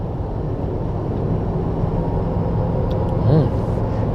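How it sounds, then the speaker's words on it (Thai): A new Toyota Tacoma TRD Sport 4x4 pickup drives on a paved road with a steady low engine and turbo drone, and a brief airy blow-off whoosh rises near the end. "เสียงเทอร์โบ โบออฟวาว"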